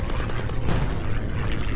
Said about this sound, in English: Gunshots echo.